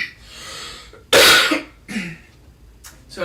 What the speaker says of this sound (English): So what I said about the coughing?